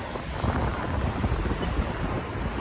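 Steady wind gusting across an outdoor spot in New Zealand, a broad continuous rush with low rumble, moderately loud and constant throughout with no talk.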